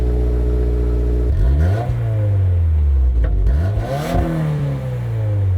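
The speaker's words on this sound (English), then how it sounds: "You can hear a lot of exhaust noise coming to the cabin, even just on a cold startup" A 2022 Subaru WRX Premium cold-starts, its engine catching and revving loudly with heavy exhaust noise that rises and settles, heard from inside the cabin with no talking.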